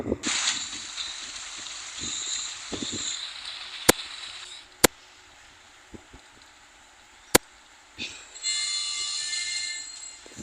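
Train noise in the Roblox game Westbound, with a hissing, squealing high-pitched wash and sharp clicks, rising and falling over several seconds, no talking.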